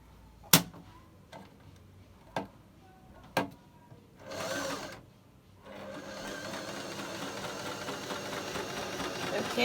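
A Butterfly JH8190S domestic sewing machine runs unthreaded: a few sharp clicks and a short whir, then a steady continuous mechanical buzz close by, fairly quiet, with no voices.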